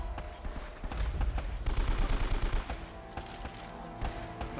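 Rapid bursts of automatic gunfire from a firefight in Uncharted: Drake's Fortune, loud and close, building to a dense volley midway and trailing off into scattered shots.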